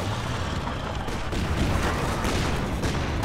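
Stun grenades and gunfire from the video game Company of Heroes 2 make a dense, continuous clatter of battle with bursts and thuds layered together, loud and unbroken throughout.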